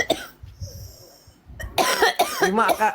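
A single cough near the start, followed by quieter breathing and then a voice talking over a background hum.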